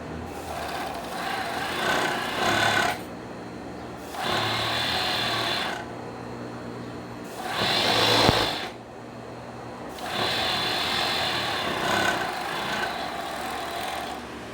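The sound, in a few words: sewing machine stitching foam piece of carnival hat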